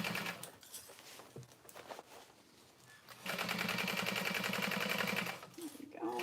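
A sewing machine back-stitches a seam on a tote bag, a burst of rapid rhythmic stitching lasting about two seconds, close and clear, after quieter fabric handling and light clicks.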